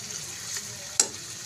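Masala with ginger garlic paste frying in a pan gives a soft, steady sizzle with a sharp clink of a utensil about midway, close and quiet.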